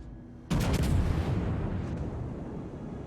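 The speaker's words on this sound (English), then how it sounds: "My god, these shells are going everywhere." A battleship's main guns firing in the naval game World of Warships, a single loud booming salvo that starts abruptly and rumbles away over a few seconds with no talking.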